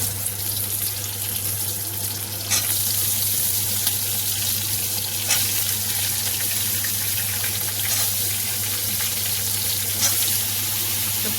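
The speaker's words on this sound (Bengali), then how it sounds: "এবার আমি ঝিঙে আলুটা কড়াইতে তুলে নেবো।" Ridge gourd and potato pieces with green chillies frying in a wok, a loud steady sizzle that continues throughout with occasional stirring scrapes, close and alone.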